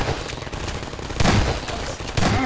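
Turret gunfire in Half-Life 2 Episode Two, rapid loud bursts of automatic shots that swell into heavier booming volleys.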